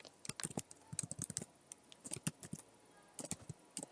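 Computer keyboard typing for a Google search, bursts of quick key clicks in short irregular runs with brief pauses, close and fairly quiet, no talking.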